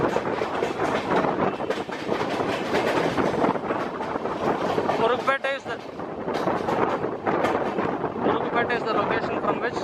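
Chennai suburban train running toward Kurukpete station, a steady loud rumble of wheels and carriage noise with intermittent rail clatter and wind, a brief squealing passage midway, a voice speaking over it.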